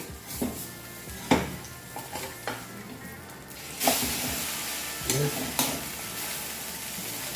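An okra omelette sizzles and fries in a pan, with a steady hiss broken by scraping clatters and knocks as it is flipped with a utensil.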